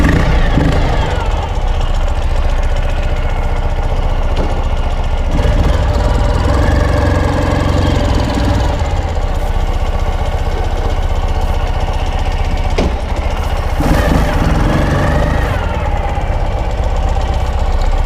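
A 2012 Ural Gear Up motorcycle, a custom build with a black powder-coated drivetrain, runs at a steady, loud, close idle throughout, its engine chugging with an even mechanical knock.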